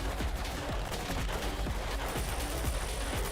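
Video game turrets firing continuously in a dense, steady stream of rapid shots at close range, loud and relentless throughout.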